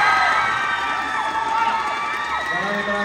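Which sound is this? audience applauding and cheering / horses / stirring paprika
audience applauding and cheering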